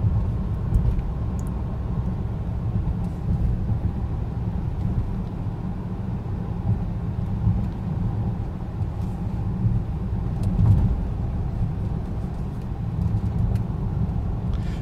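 A Land Rover Discovery HSE Td6 drives through the city, heard from inside as a steady low engine and road rumble with no talking.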